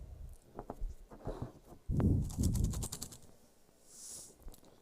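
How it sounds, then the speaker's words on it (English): A magician at a gala shuffles a deck of cards: rapid, close clicking and riffling bursts with a louder flurry partway through, in a quiet room with no talking. "I'm shuffling."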